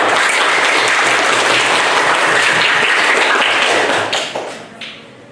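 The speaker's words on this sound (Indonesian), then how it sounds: "Tepuk tangan dulu." A class breaks into loud, close applause after a presentation, with dense clapping that thins out and fades over the final second.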